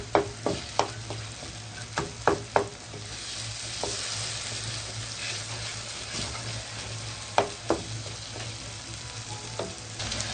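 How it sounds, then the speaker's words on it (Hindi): A spoon stirs roasted eggplant bharta frying in a pan, giving a steady sizzle broken by sharp scraping clicks in quick clusters near the start, more scattered ones later, and no talking. "ऊपर से हम चम्मच से इस तरीके से इसको मिक्स करेंगे।"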